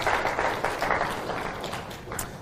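A church youth congregation applauds a newly married member at a Sunday service, giving steady, moderately close clapping from many hands that carries evenly through the whole moment without any voices.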